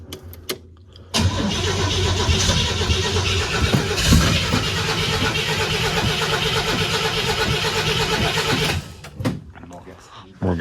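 A barn-find belly tanker jet mobile cranks and fires into a rough, loud running engine that holds for several seconds before cutting out, with people talking nearby.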